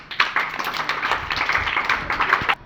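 Clapping by a small group, a steady run of close, sharp hand claps lasting a couple of seconds before stopping abruptly.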